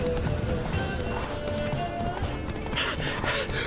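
Rapid hoofbeats of a galloping horse in The Witcher 3: Blood and Wine, a busy game soundscape, steady and continuous with background music and effects.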